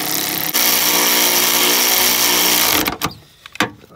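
Power tool tightening alternator bolts on a Chevy Equinox, a loud continuous buzzing whir that runs close for nearly three seconds, then stops, leaving a few sharp clanks and knocks.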